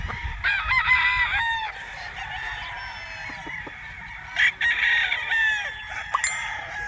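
Gilmore straight comb gamefowl roosters crow on a game farm in Tanauan, Batangas, several calls overlapping in drawn-out bursts with honking and clucking birds around them.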